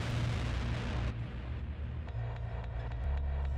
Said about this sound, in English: the car explosions killed the guy beneath